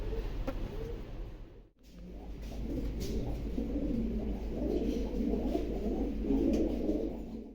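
Racing pigeons coo repeatedly at close range, their low rounded calls overlapping in a steady murmur over a constant low hum, with a brief quiet gap early on.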